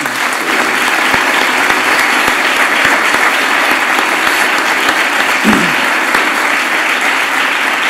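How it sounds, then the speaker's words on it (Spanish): An audience at a cultural platform presentation gives sustained applause for the speaker Don Jaime, a loud, even, continuous roar of many hands that holds steady throughout without pause. "Le damos las gracias y un gran aplauso a don Jaime"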